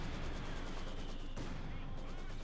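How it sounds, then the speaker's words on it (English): Steady battle noise from the Company of Heroes 2 strategy game, with mortar fire amid a constant dense rumble of distant shots and explosions, fairly quiet and unbroken. "They got mortar fire"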